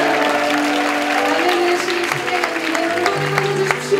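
Congregation at a Korean youth church service clapping and cheering loudly over live worship music, with someone speaking over the steady applause throughout.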